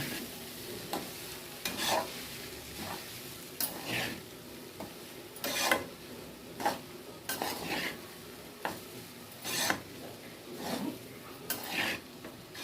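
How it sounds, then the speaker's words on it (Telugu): Washed flattened rice (poha) is tossed with tempering in a pan. A ladle scrapes and taps the pan in a regular stirring rhythm over a soft continuous sizzle, with no one talking. "పోపంతా వీటికి పట్టేలాగా కలుపుకోవాలి"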